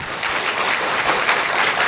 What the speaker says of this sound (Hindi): अपने लिए ताली बजाएं जोर से,